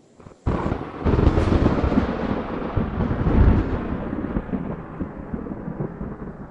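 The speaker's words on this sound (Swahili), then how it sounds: "Alimjibu na radi na umeme." A sudden thunderclap in a Kenyan Swahili film breaks out sharply, then rolls into a deep, loud rumble that slowly fades away.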